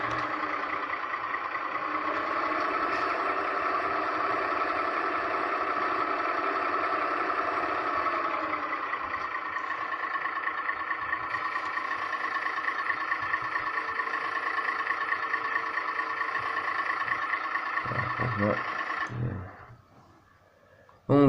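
A video game tractor engine idles steadily with a droning hum for about twenty seconds, then cuts off abruptly near the end.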